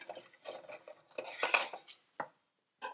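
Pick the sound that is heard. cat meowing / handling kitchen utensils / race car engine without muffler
handling kitchen utensils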